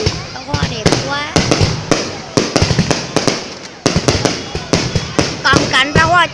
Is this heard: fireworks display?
yes